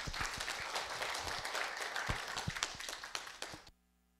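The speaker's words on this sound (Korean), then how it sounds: "큰 환영의 박수 부탁드립니다." A lecture audience breaks into applause to welcome a professor to the podium, a dense burst of many hands clapping that swells and then stops abruptly.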